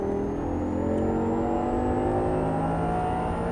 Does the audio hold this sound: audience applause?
no